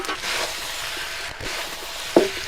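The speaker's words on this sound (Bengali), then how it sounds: "এবার খামাগুলো দিয়ে একটু কষে নেব" Yam pieces sautéing in a pan with chicken curry, a steady close sizzle and frying hiss running throughout, with a brief sharper clink or scrape of utensil near the end.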